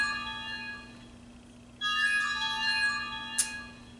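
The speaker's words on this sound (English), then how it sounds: "I hate my phone ringing." A mobile phone rings indoors with a sustained electronic tone that stops and restarts, alone with no talk over it.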